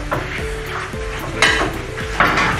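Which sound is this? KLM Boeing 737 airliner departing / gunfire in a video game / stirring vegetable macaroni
stirring vegetable macaroni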